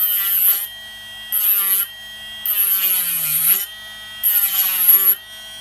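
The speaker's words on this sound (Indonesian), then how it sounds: "sekarang kita coba menggerinda dulu ya, sedikit-sedikit ya" Small rotary grinder cutting into the plastic casing of an Anker 65W charger in short bursts, four high-pitched whining passes separated by brief pauses with a lower motor hum in between, close and loud.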